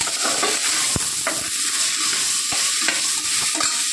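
Garlic sautés in a hot pan for idli sambar, a steady close sizzle of frying broken by scattered scrapes and taps of a spoon stirring, with no talking.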